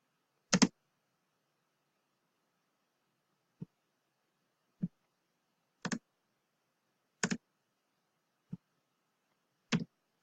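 Sparse, quiet clicks of computer keyboard keys come one at a time with long gaps between presses, in a silent room.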